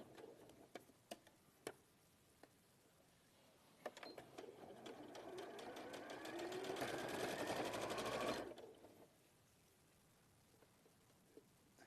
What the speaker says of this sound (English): I'm going to sew around it